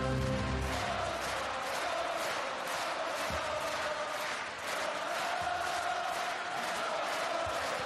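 A crowd roars at a men's volleyball Olympic qualifier between Poland and France in Ergo Arena, a dense, sustained wall of cheering and chanting that stays loud throughout, with a commentator's voice faintly beneath.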